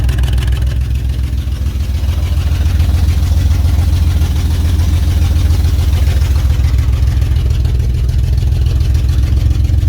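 An old Jaguar XJ6 barn-find engine idling close by with no exhaust fitted, a steady low throbbing rumble that runs evenly and loudly throughout without any voices.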